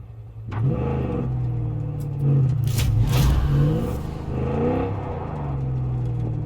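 A car engine in the video game Far Cry 5 runs with a loud, steady drone and rises through several revving swells, close and continuous.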